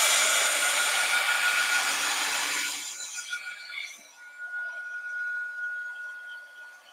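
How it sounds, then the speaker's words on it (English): A hair dryer blows loud and close while drying a painted background for about three seconds, then cuts off and leaves quieter background sound behind. "I'm going to dry this."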